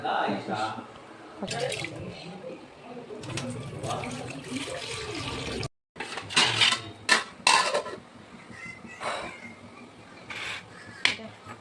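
Rice is rinsed in a pot in a home kitchen: water splashes and sloshes, the pot clanks and clinks in irregular bursts, and a tap runs intermittently, with voices faintly underneath.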